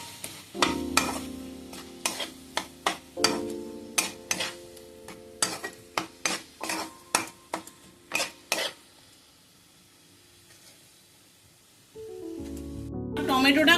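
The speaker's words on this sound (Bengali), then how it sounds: "এবার এটা আমি নাড়বো যতক্ষণ না টমেটোটা একটু গলে যায়" A spoon stirs tomatoes and salt in a pan, scraping the metal in about a dozen sharp, rhythmic strokes. A quiet pause follows, then a sizzle swells up close.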